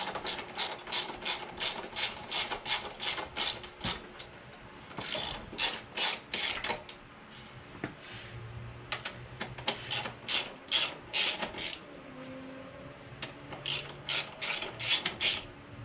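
Ratchet clicking steadily as a bolt is backed out of the rear shock on a 2021 Honda Monkey, rapid pawl clicks in repeated bursts with brief pauses between strokes, close and fairly quiet, no talking.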